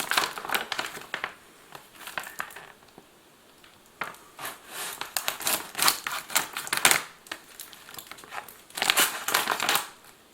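Tough sealed plastic pouch of a 2018 Ukrainian army 24-hour ration being torn and wrestled open, giving close, bursty crinkling and crackling in uneven clusters with brief pauses, no talking.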